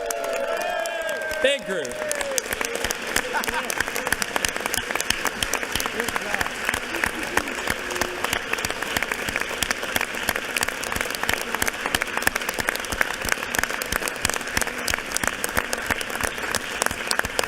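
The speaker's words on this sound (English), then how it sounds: "let's give a big round of applause to the Down Syndrome Association and our friends here" Dense applause and cheering fill a legislative chamber for the Down Syndrome Association, sustained loud clapping from a large group with scattered whoops, a brief spoken phrase near the start.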